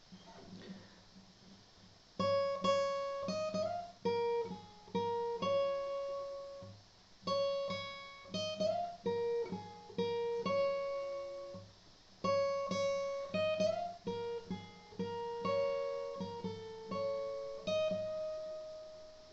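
Guitar solo from a song, played as a lesson demonstration: a sequence of clear plucked single notes and short bends, moderately quiet, phrased in two repeating passages with brief pauses between.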